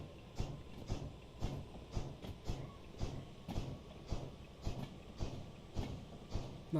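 Diesel locomotive engine in the train game Derail Valley, throttled up to notch 2, chugging with a steady rhythmic pulse of regular beats and a low rumble, moderately near, no talk.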